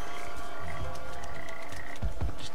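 Frogs croaking in the video game Papo & Yo, a dense, steady chorus of croaks over loud game ambience with a few thumps near the end.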